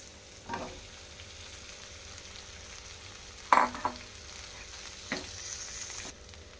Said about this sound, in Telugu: స్పూన్ సాల్ట్ వేస్తున్నాం స్మాష్ చేసుకున్న ఆలూని వేస్తున్నాం